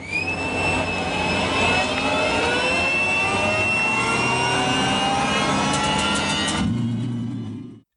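An aircraft jet engine runs before takeoff with a loud, steady roar and a high whine that slowly shifts in pitch. It stays close and continuous, then cuts off abruptly near the end, with no talking.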